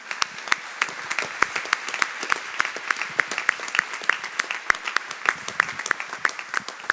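Applause for a radio station's team at a French Catholic gathering, a sustained round of clapping from an audience with sharp individual claps standing out, steady throughout.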